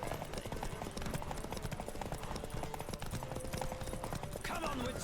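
Horses gallop in a race in The Witcher 3, with steady rapid hoofbeats thudding beneath game music and ambient noise while a voice speaks briefly.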